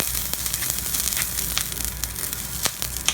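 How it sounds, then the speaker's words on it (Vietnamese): Butter frying in a pan over low heat for beef steak, a steady dense sizzle with scattered crackles and pops, close and continuous with no talk. "Này mình cho bơ vào trong chảo nhé."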